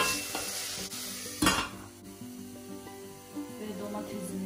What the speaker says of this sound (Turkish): Şimdi de böyle kavuralım.